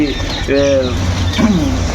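Farm quails give short, tonal cooing calls in quick bursts, close and fairly loud over a low steady background hum.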